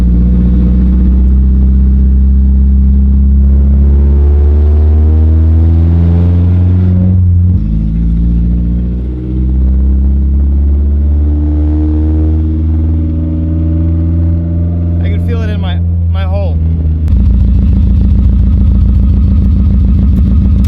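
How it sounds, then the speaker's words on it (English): A Mazda Miata engine with a very loud exhaust revs up and down repeatedly close by, its deep droning roar rising and falling in pitch and staying loud throughout, with a brief higher rattle near the end. "The problem right now is the exhaust is so loud that I can't actually like tell how the car is running"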